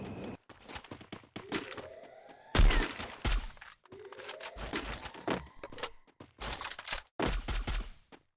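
Sniper rifle gunfire in the video game Counter-Strike: several loud, sharp shots with ringing bolt-action reloads between them, spaced irregularly across a match, with no talk.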